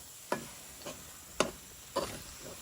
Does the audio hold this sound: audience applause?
no